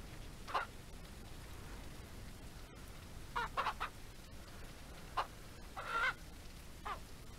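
Chickens in the video game Ranch Simulator let out several short, scattered clucks and squawks over a quiet, faintly hissing background, with no talking.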